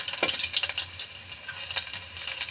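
Finely chopped shallots fry in oil with cumin, giving a close, crackling sizzle and quick stirring scrapes in a short burst with no speech.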